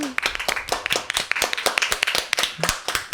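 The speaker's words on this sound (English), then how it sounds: "those are some impressive claps" An audience claps close by, a dense run of sharp, uneven hand claps that carries on steadily for a few seconds.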